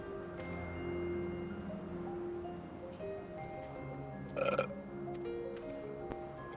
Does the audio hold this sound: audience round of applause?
no